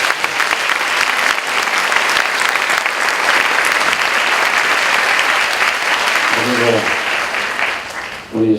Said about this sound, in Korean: 승리하신 우리 전진 전부님께 감사의 박수 한번 올려드립시다.